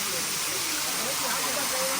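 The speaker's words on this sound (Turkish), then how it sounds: "Ama şu an şelalenin altındayız. Üstümüzden akıyor sular." Steady broadband rush of a waterfall in Antalya, heard from underneath the falling water, a constant close hiss with no breaks, with faint voices in the background.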